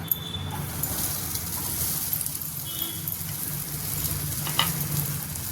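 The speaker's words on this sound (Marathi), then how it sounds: "आपण हे आवळे आता या फ्राय पॅनमध्ये टाकायचे सर्व" Amla gooseberries fry in a frying pan with a loud, continuous close-up sizzle and hiss, broken by occasional faint stirring scrapes and pops.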